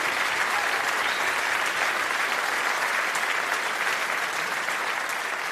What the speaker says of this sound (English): Give John a round of applause